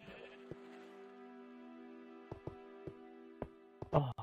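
A Minecraft sheep bleats in one long, steady tone under a low hum, punctuated by a handful of sharp clicks and taps, close, with a louder noisy burst at the very end.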